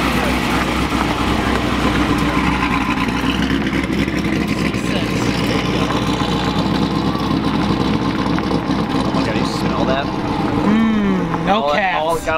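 Rumbling exhaust of a C8 Corvette idling at a cars-and-coffee meet, a steady loud low engine drone throughout with a brief pitch sweep near the end, and people talking nearby.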